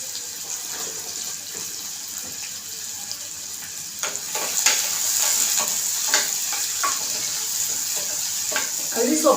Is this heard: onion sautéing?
yes